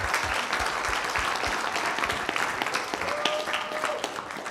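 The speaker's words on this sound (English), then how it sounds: "let's give them a round of applause for joining us tonight" Audience at a Socorro ISD school board meeting claps for students in attendance, a sustained crowd of hands clapping evenly from mid-distance, with a few low thumps and faint murmuring underneath.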